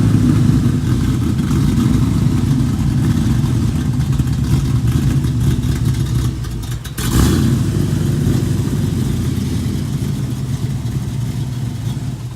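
A 1968 Ford Mustang V8, slightly cold-blooded after a short earlier run, rumbles loudly and steadily at close range, dipping briefly near the middle before picking back up into a strong, even idle.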